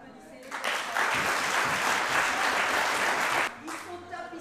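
An audience at a swing dance workshop breaks into brisk, dense applause for the dancers, starting sharply and holding steady for about three seconds before stopping abruptly, with talk before and after.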